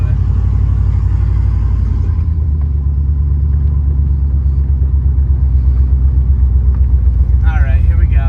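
A Jeep off-roading and dropping off a ledge, with a loud steady engine rumble that deepens partway through and voices heard briefly near the end.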